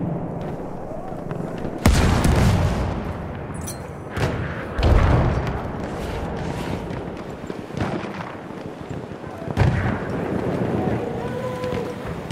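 In a video game battle, a grenade explosion and gunfire sound as heavy booms and bursts of shots at intervals. Loud blasts come near 2, 5 and 9.5 seconds over continuous battle noise, with voices calling out between them.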